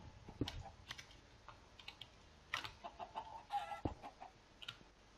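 Minecraft chickens cluck in short, sparse calls, mixed with quiet clicks from a computer keyboard, all soft and intermittent.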